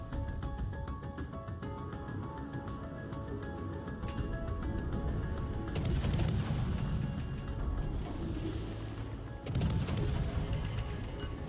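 Warship guns fire in the World of Warships naval video game, with booming salvos around the middle and near the end over a dense background of battle noise.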